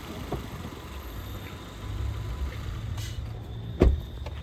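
A 2023 Honda Elevate engine idling at a steady low rumble, with no talking and one brief thump near the end.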